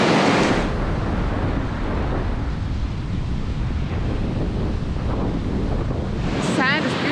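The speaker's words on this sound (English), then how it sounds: "It's very windy." Strong wind gusts buffet the microphone over the steady roar of ocean waves on the black-sand shore at El Golfo, Lanzarote. The wash is loud and continuous, and a faint bird call rises near the end.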